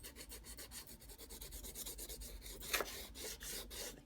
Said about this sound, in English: come in with a little more sandpaper.